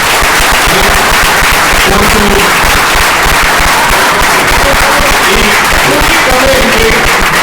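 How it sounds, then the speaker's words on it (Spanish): An audience at a public event claps loudly and densely, a dense, sustained wall of applause that carries on without a break. "le pido un fuerte aplauso"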